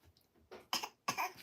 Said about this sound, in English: did you have to cough?